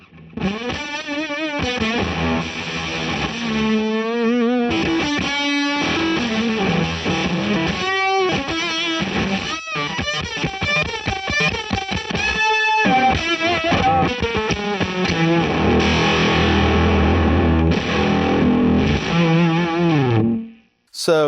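An electric guitar through fuzz and an Octavia octave fuzz, with a buzzy, octave-doubled edge, plays a bluesy lead line for about twenty seconds, loud and continuous, then cuts off.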